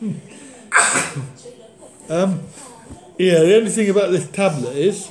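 A single sneeze bursts out briefly near the start, surrounded by close conversational speech from several people talking casually.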